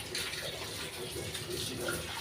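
Hands are washed under a running tap, a steady close splash of flowing water throughout.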